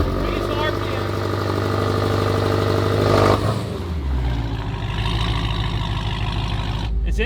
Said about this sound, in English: So pull back both paddles, foot on the brake, raise the RPM.